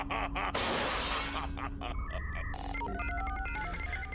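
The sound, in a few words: Micron robots beeping like phone noises in animation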